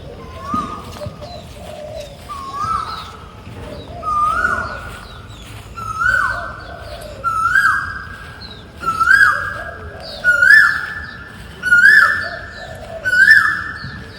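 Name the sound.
Asian koel cuckoo calling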